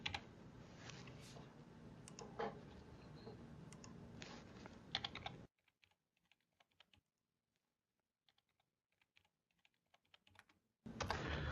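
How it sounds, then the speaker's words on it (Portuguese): Fingers type on a computer keyboard while entering a term into concept-mapping software, with quick, light, irregular key clicks, close but quiet. A louder room hum starts and stops around them. "eu vou digitar aqui"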